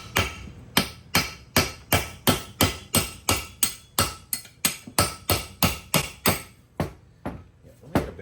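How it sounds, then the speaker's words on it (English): A big hammer, and then a brass punch, beats a rusted brake part off a 1969 Camaro during a ZL1 brake job: about seventeen sharp, loud, close metallic strikes in a steady rhythm that slows and softens toward the end. "I had to get a big hammer."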